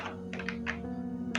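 Keys on the Italian-layout keyboard of a retro XT-class PC clack in a few uneven presses over a constant low machine hum, close and moderately loud.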